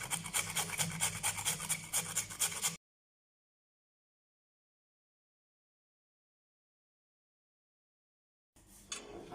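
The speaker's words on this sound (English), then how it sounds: "I'm just going to use my grater to use this part of it to grate it like so." Cauliflower is rubbed against a hand grater in quick, rhythmic rasping strokes, close and steady, then a long silence before the grating resumes briefly.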